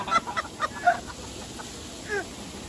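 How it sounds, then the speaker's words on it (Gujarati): A hen clucks in a few short bursts near a chick, with faint peeps between them in a village yard during a Holi celebration. "देखो गाइस मुर्गी का बच्चा"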